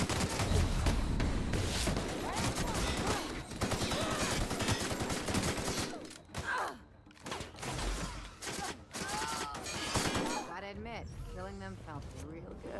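Gunfire in the video game The Outer Worlds, rapid bursts of shots crackling densely through most of the stretch, then thinning into scattered single cracks under game voices and chatter.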